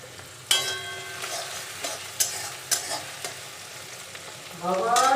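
Vegetables for chicken chow mein are stir-fried in a pan, a steady sizzle broken by several sharp clanks and scrapes of the spatula, rising into louder frying near the end.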